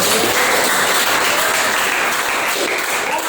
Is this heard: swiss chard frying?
no